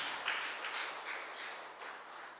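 A church congregation at a Sunday evening service claps to welcome a guest, a soft, distant patter of many hands sustained evenly throughout.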